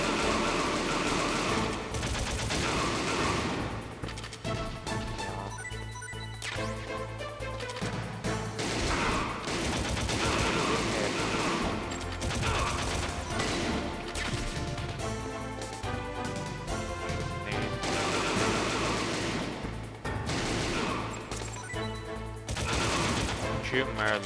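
Rapid bursts of video-game gunfire from Metal Gear Solid, the player reloading and firing in a firefight near Revolver Ocelot and Meryl, dense and loud with crashes and game music throughout.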